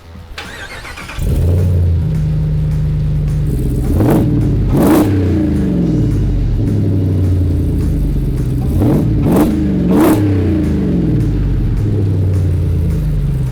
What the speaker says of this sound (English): I'm gonna have them start it up here for you so you can hear it start.